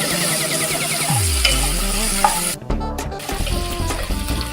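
Onion fried with green chilies and curry leaves in a pan: a loud continuous sizzle with a spoon scraping through it, briefly broken by a sharp clatter near the middle before the frying resumes.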